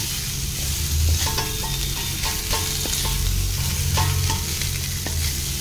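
Potatoes and arbi roasting in desi ghee, a loud, dense close sizzle with repeated metallic spoon scrapes and taps against the pan as they are turned; no talking.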